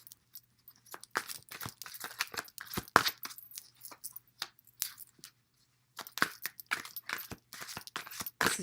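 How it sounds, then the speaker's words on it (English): A tarot card deck is shuffled by hand in quick, crisp riffling bursts and soft papery slides, with short pauses between rounds and no voices. "This is just in case you want to see my shuffling."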